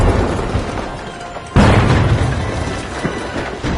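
A frag grenade explodes in a video game match with a sudden loud boom midway, its rumble trailing off under steady background game noise and music.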